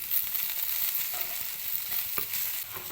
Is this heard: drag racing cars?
no